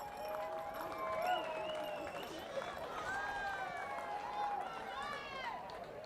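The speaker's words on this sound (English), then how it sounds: "please, a big round of applause for both of our Grand Final teams this evening" A crowd at a women's state league football grand final between Brighton and Glenelg applauds the teams, steady moderate clapping with scattered whistles and cheers running throughout.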